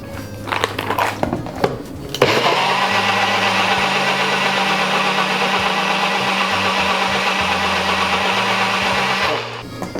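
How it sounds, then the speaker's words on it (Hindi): A blender churns piña colada with ice cubes, switching on after about two seconds of clatter and running loud and steady for roughly seven seconds before stopping. "तो बस अब इसे ब्लेंड कर लेंगे अच्छे तरीके से।"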